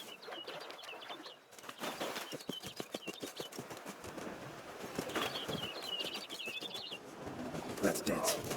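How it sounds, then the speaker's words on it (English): Bird calls in The Witcher 3 video game: chirps and coos sound in short bursts over an ambient game backdrop, with wing flutters and soft talk mixed in. "Looks like a bird's eating somewhere."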